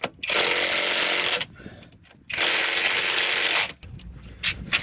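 An impact drill tightens wheel nuts on a 7.5-tonne lorry, two loud sustained rattling bursts of about a second each with a brief pause between, close by, with a softer trailing rattle after.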